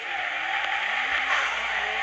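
In a video game, a black motorcycle races along with a loud, continuous engine roar and tires hissing and squealing, its pitch sliding up and down as it speeds.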